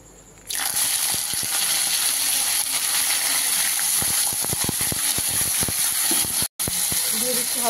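Chicken mince hits hot oil in a wok with bay leaf and cumin seeds, bursting into a loud, steady sizzle that fills the clip with crackles and spatters, interrupted by a brief drop near the end.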